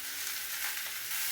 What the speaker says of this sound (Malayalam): അതിൻ്റെ പച്ചമുളക് ഇടയിൽ കീറിയതും തക്കാളി അരിഞ്ഞതും കൂടി ഇട്ട് കൊടുക്കാം